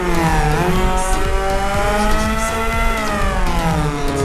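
A Honda Civic EP3 Type-R fitted with a Warex exhaust in Euro Truck Simulator 2 drones loudly and steadily at high revs, with its engine pitch rising briefly and then holding a sustained, buzzy note throughout.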